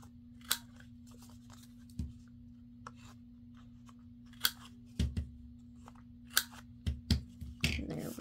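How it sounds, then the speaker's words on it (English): Scissors snip the corners of handmade paper bookmarks, about ten short crisp cuts spaced irregularly over a low steady hum, close and clear with no talking. "So now we'll cut our corners."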